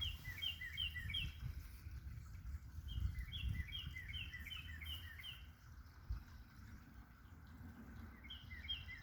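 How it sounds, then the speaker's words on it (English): Repeated clear, downslurred whistles come in quick phrases from a northern cardinal, moderately distant, in an early spring park in Rockford, Illinois, over a steady low rumble of background noise. "Let's listen to the birds for a few moments. There's a cardinal."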